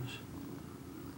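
A mother cat with her five newborn kittens purrs in a low, continuous rumble, close and steady for a brief moment.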